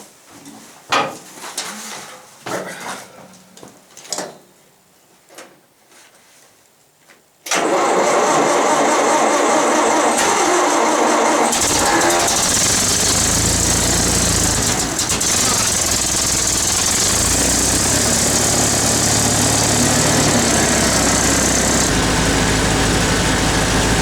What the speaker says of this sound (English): when it's 25 below and you got to get your tractor going